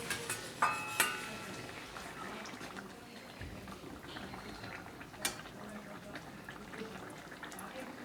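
Hilsa fish curry gravy with small eggplants bubbles at a gentle boil in a pot, a soft steady simmer with a few clinks of cookware near the start and quiet talk underneath.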